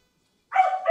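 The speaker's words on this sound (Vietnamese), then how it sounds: "Sủa dọa gà cái đấy." A village puppy barks to scare off chickens: a short burst of yappy barking that starts halfway through after silence, close and fairly loud, with no talk.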